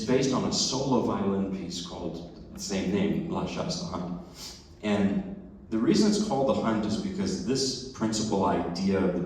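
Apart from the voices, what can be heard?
No everyday noises stand out.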